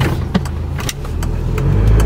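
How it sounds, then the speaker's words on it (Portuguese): A car pulls out of a parking space on a street, its engine idling low and then building into a steady rumble close by, with a few short knocks early on and no talk over it. "a mulher vai sair com o carro?"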